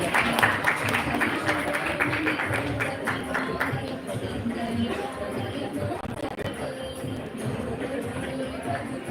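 Applause from an audience at an HR conclave, a mixed patter of clapping running under crowd chatter and voices, fading slightly toward the end.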